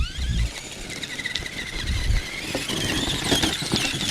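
A Traxxas Summit RC rock-crawler truck, shifted into high gear, climbs over rocks outdoors with a high, whining electric motor squeal that rises and wavers, along with scattered scrapes and bumps of tires on stone.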